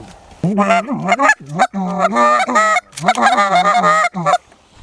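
Loud, close geese honking in a rapid overlapping series of nasal calls, several birds calling at once as they take off from a flooded cornfield.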